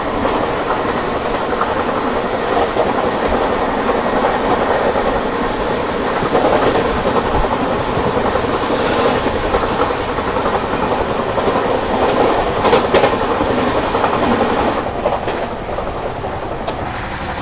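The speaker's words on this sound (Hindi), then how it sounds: "अब ये मारेगी जनता एक्सप्रेस को ओवरटेक, तो उसका ओवरटेक दिखाते हैं।" A Rajdhani Express train overtaking the LTT–Rajgir Janata Express at speed on Indian railway track. Loud, steady rail roar and clickety-clack of wheels runs throughout, swelling slightly midway as the cars pass close by, with no talk.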